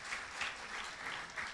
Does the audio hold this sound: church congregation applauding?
yes